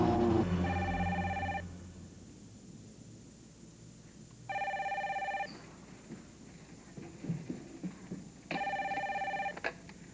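A telephone rings in three separate bursts of bright electronic trilling, each about a second long with quiet gaps between, in a room with faint background noise.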